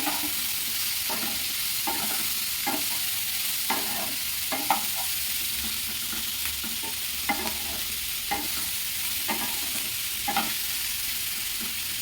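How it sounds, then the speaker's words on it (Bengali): Mixed vegetables with capsicum sizzle steadily in a pan while a spoon stirs them, with regular scraping strokes every second or so over a continuous frying hiss and no talking. "এর মধ্যে এবার দিয়ে দেবো ক্যাপসিকাম দিয়ে ভালো করে নাড়িয়ে চাড়িয়ে নিতে হবে"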